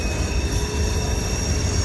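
A CSX freight train hauled by six engines rolls past, a steady loud rumble of wheels and railcars with faint squeals riding over the low roar.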